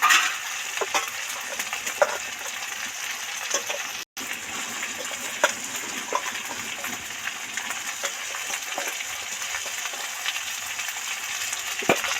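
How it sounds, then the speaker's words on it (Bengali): Potatoes frying in hot oil with onions for a shol fish curry give a steady close hiss and sizzle, with small pops and crackles scattered through and a brief drop-out near the middle. "এখন পেঁয়াজ থেকে তো তেল ছেড়ে গেছে এবার এর মধ্যে আলুগুলো দিয়ে দেবো"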